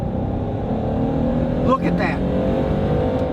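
A V6 car with 231,000 miles on it accelerating at full throttle, its steady engine drone rising under a brief remark from a person in the cabin.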